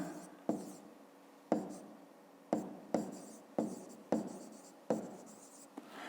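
Pen or pencil writing a five-digit number by hand on paper, heard as seven or eight sharp strokes spaced about half a second to a second apart, each with a short scratchy tail, close and alone.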